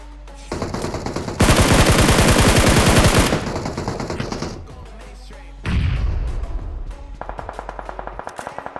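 Rapid automatic gunfire from the battle royale game BGMI, with bursts of fast shots, a sustained loud volley, then further bursts and a trailing run of evenly spaced single shots, close and dominant.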